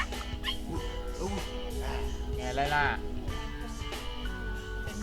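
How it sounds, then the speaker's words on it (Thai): A puppy in The Sims 3 video game yips and whimpers in short bursts, mixed with a person talking over game sounds. "ลูกสุนัข โอ้ลูกสุนัขน่ารักไหมแน่นอน"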